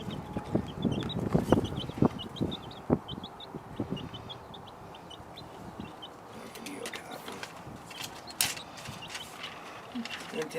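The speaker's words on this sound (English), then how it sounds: "My new birds." Chickens cluck and chirp in short repeated calls among rustling and handling noise, moderately close, with people talking nearby.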